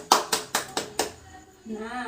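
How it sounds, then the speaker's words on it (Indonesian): Five sharp, evenly spaced claps from a classroom group ring out loud and close in a quick rhythm, followed by a brief pause and then a voice beginning to speak. "Tepuk tangan dulu untuk kita semua."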